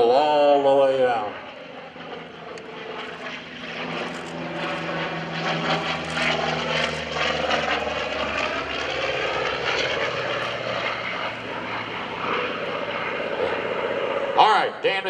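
An F4U-5NL Corsair propeller plane makes a photo pass at a Boston Portsmouth airshow, its piston engine roar steady and loud, swelling and shifting pitch as it passes, with an announcer talking over it.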